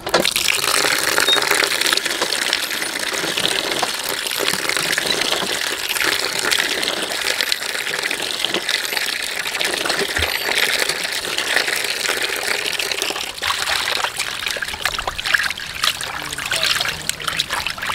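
Milkfish intestines, with gills and bile removed, being washed under a running tap, giving a steady, continuous gush and trickle of water that stays loud and close throughout.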